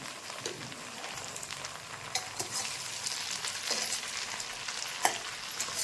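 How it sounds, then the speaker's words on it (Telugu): Chopped broad bean pieces go into a pan of fried onions and get stirred, producing a continuous close sizzle with scraping stir sounds and occasional sharp pops, no voices. "చిక్కుడుకాయ ముక్కలు వేసుకోండి"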